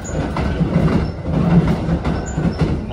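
A Thunderbird limited express train runs through Omi-Shiotsu station, heard from aboard as a loud, steady rumble of wheels on rails with rhythmic clickety-clack beats and faint squeals, no voices.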